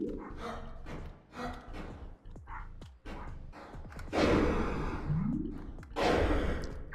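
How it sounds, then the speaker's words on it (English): A dog barks a few times in the background, loud bursts standing out over heavy breathing and sigh-like sounds. "if you hear a dog barking"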